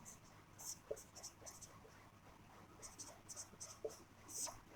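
Faint scratchy strokes of writing on a board during a history lesson, short irregular bursts of scribbling in a quiet room with soft breathy background noise.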